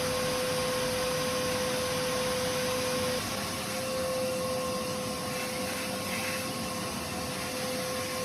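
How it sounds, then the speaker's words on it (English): A wet vacuum draining a boat's bilges runs with a steady droning whine and a constant hum, its pitch dropping slightly partway through, loud and continuous. "At least we have a water vacuum cleaner on board Perle, which made draining the bilges so much easier."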